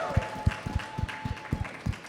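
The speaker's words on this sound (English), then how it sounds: "Give a round of applause." Studio audience at a matchmaking game show claps in a loose, uneven pattern of distinct hand strikes, moderately close, with a faint sustained tone running underneath.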